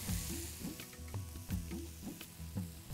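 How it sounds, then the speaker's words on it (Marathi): Kabuli tadka sizzles and is tossed in a pan over a low flame, with a continuous soft crackle broken by repeated rhythmic clanks and scrapes of the pan and utensil. "छोट्या फ्लेमवरतीच आपल्याला हे टॉस करायचं आहे"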